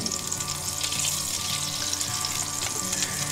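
Olive oil and butter melting in a pan give off a continuous, even sizzle and crackle, heard close up with no voices.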